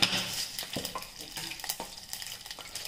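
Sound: mustard seeds sizzling when added to hot oil

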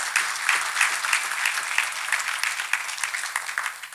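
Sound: congregation clapping hands

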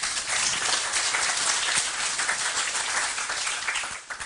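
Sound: audience applause for University of Leiden presenters

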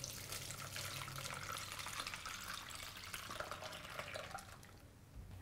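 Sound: fresh juice poured through a strainer

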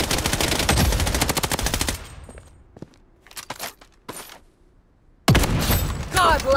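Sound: gunfire in the video game BloodStrike

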